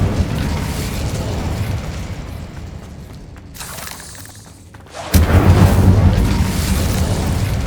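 Incendio fire spell cast in Hogwarts Legacy, a booming burst that swells into a loud, sustained fiery roar after a quieter lull, dense low rumble throughout with no talking.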